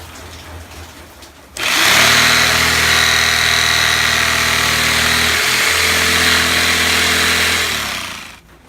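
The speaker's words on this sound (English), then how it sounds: "I've used a clamp to secure this piece of wood to a little bit larger board, so I can cut this without worrying about it slipping too badly." A powered saw starts abruptly and runs at a loud, steady whine while cutting a piece of wood clamped to a larger board, with a brief dip midway before it winds down near the end.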